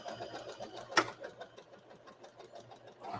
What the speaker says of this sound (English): Whatever sewing machine you have, I'm sure there's a button for reverse stitch